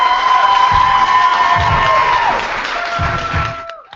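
Audience at a youth slam poetry bout cheers and applauds a poet, a dense steady crowd roar with whoops and clapping that eases slightly near the end.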